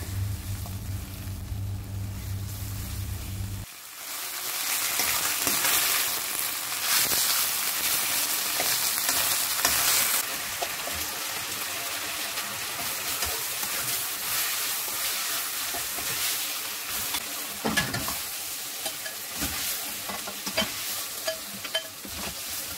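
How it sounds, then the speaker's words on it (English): Beef fillet fries over the highest flame in hot oil in a pan for Chinese Hakka noodles. A loud, dense, continuous sizzle starts after a quieter opening, and a few stirring clatters cut through it. No one speaks. "first I added some oil and then I'll cook the beef fillet until it's just cooked"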